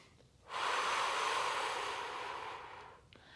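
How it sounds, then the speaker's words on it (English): A single long, close breath is drawn in through the nose during a yoga spine-extension stretch, soft and airy, swelling then fading, with no talking. "Breathing in through the nose."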